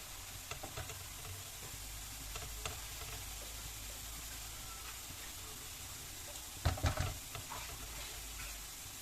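Spices and vegetables, seasoned with salt, black pepper, turmeric and ginger, are stirred in a cooking pan: a faint steady sizzle with scattered light clicks and a brief burst of scraping near the end.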